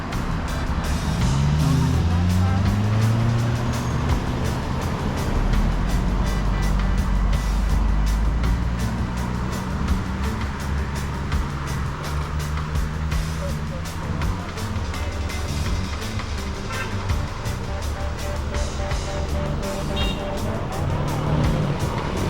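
Cars and trucks move through a busy market street by the Bluefields River, with a steady rumble of engines, passing vehicles and occasional beeps, while people talk throughout.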